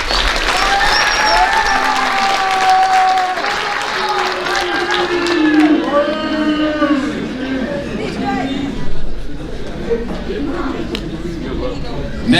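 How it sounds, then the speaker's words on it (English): Applause from a banquet audience for high school powerlifters at an athletic banquet, a broad, sustained round of clapping mixed with crowd chatter and an announcer's voice over the top. "Let's give these powerlifters one more round of applause."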